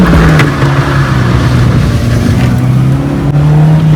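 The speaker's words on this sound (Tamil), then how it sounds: "manual Karnaugh wheel spin பண்ணணும்ப்பா" A manual Ford Ikon pulling away hard with wheel spin, its engine revving loud and close in a steady high-revving roar for the full few seconds.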